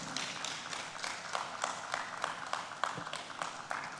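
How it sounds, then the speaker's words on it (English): An audience at a West African clean energy and environment conference claps steadily, a dense, continuous patter of many hands held at an even level for the whole stretch, with no speech over it. "I think you really need to keep clapping until he gets here"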